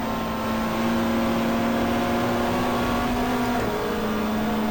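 Racing cars, Toyota Corollas and Volkswagen Golfs, drive in a 1994 GTR2 race at Pukekohe, heard as a loud, steady in-car engine drone with a sustained high whine that shifts pitch near the end.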